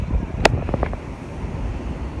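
Wind blows at the beach, buffeting the microphone with low rumbling gusts and a sharp thump near the start, rough and uneven throughout.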